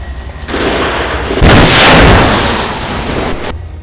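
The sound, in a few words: explosion after rocket hits tank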